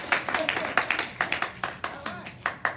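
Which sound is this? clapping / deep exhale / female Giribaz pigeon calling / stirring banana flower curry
clapping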